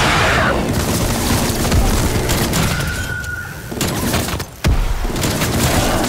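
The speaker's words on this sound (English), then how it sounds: "Semtex going out." A Semtex grenade goes off in Call of Duty: Black Ops Cold War gameplay, a loud boom within steady, dense gunfire and battle noise, followed by a brief dip and a sharp burst of sound.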